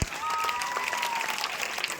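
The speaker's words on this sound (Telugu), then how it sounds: "వెరీ గుడ్, క్లాప్స్ కొట్టండి ఒకసారి." An audience at a teacher's lecture or talk claps for about two seconds, a dense burst of applause under a faint voice.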